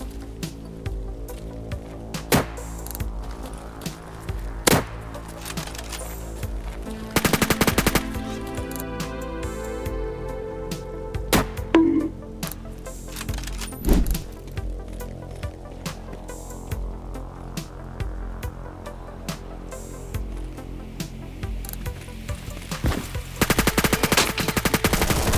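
Gunfire in a video game, long stretches of rapid automatic bursts and single cracking shots, loud and close, recurring throughout with brief pauses and no talk.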